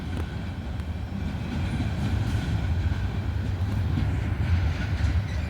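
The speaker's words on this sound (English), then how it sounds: "we got another train coming out." A freight train rolls past close by in Abbeville, a continuous heavy rumble with faint clattering of wheels on track and no voices.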